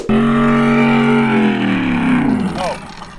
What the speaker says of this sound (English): It's just fun to have an e-moto that sounds sort of like a gas bike.